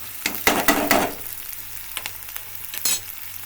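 Cumin and green chilies frying in a pan, a sizzling crackle with bursts of louder spitting and stirring, close and fairly loud, no speech.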